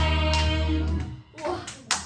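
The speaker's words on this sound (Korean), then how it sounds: "우리 2번째 줄 친구들 서로 옆 친구 박수 잘했어요." Children in a church kids' class clap their hands in a few sharp scattered claps after a sustained tonal sound fades out.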